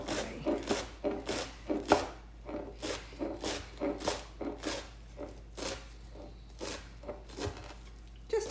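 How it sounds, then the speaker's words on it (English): A knife chops rapidly on a cutting board, roughly preparing folded leaves with the stems cut off for a mango salsa: a steady run of crisp, evenly spaced thuds, close and clear, about two strokes per second. "I fold it up and just chop away"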